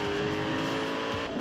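A car in the racing game Forza Horizon 4 crashing through fences, heard as a continuous engine drone with scraping and a few soft impacts near the end, a short busy burst with no speech.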